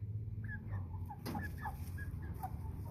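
American Bresse chickens, twelve-week-old unhandled birds, clucking in short repeated calls over a low steady hum, fairly close with no talking.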